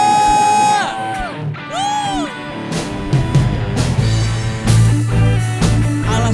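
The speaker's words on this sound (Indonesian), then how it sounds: "Semuanya sorakan haleluya." A church congregation at worship shouts hallelujah together, a loud burst of massed voices and cheers that follows a single voice's rising calls, and gives way to sustained music.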